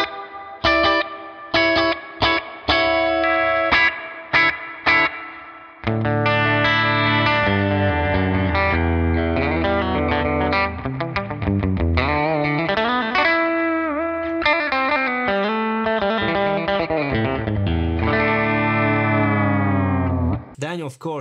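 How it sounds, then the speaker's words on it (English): An electric guitar played through the Tone King Imperial MKII amp plugin with spring reverb, a few clipped plucked notes and then sustained chords and melodic lines with a clean, wet tone. "So the reverb here is a spring reverb."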